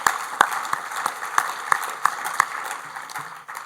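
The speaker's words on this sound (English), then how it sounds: "please give them a round of applause for supporting you and supporting PeeringDB" A conference audience claps for a volunteer admin committee, giving sustained, fairly loud applause with a few sharper individual claps standing out.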